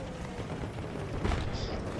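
An M98B sniper rifle fires in Battlefield 3, producing a single heavy, booming report. It rises out of a dense, roaring backdrop of battlefield noise.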